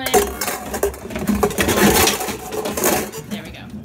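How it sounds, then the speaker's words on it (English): Metal pots and pans clatter and rattle inside a deep kitchen drawer, with dense, irregular clanks and knocks close by for the whole stretch. "We've got our pots and pans."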